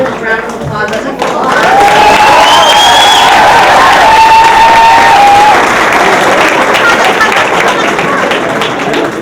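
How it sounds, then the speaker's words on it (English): Audience applause fills a hall at an Ethiopian graduation celebration in Seattle, a dense sustained clapping that rises quickly after a brief quiet start and holds steady, with scattered cheers mixed in. "Make sure we give them a good round of applause."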